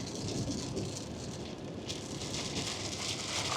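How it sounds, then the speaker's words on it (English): Rain beginning to fall in Florida, a soft, steady hiss of drops heard faintly and continuously without talk. "Oh, here comes the rain."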